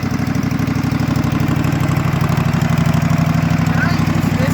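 A janky racing lawnmower engine runs close by, a loud rapid steady chugging with a slightly rough, knocking pulse, while someone speaks.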